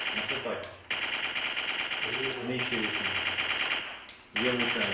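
Rapid bursts of simulated machine-gun fire from a Ukrainian training simulator rattle in three long volleys, separated by short pauses, with faint voices underneath.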